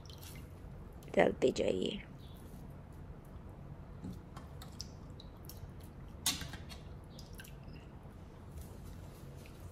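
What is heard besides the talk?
water squeezed by hand from grated potatoes into a bowl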